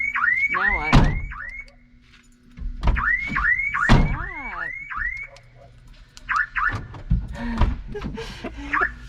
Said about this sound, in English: That's how the alarm works